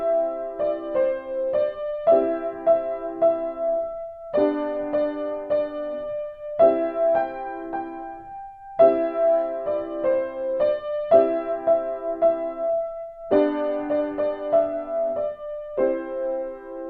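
A piano is played with both hands, repeating a chord-based pattern in regular phrases with a bass line under the melody, clear and close, with no voices.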